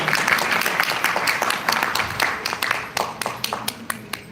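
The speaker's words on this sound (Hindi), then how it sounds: "जोरदार तालियों से अभिनंदन करें श्री सौरभ गुप्ता जी का।" An audience at a live stage event applauds as a guest is welcomed onto the stage, a dense patter of many hands clapping that thins into scattered, sharper claps near the end.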